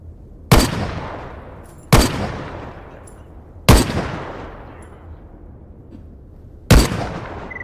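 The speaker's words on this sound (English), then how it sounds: "this is going to be the first time I'm firing the SVD" Four booming SVD sniper rifle shots fired at irregular intervals in the video game Stalker Gamma, each a sharp loud crack trailing into a long fading echo, with no talking.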